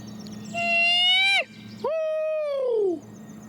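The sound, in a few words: owl hoot call imitation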